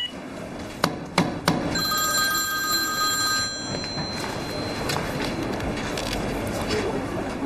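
A telephone rings repeatedly while a mother calls her eldest child, the bell clear in the room amid a few knocks, footsteps and faint talk.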